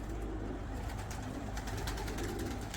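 Pigeons coo softly and repeatedly against a steady background hum outdoors, the calls faint and somewhat distant with no one speaking.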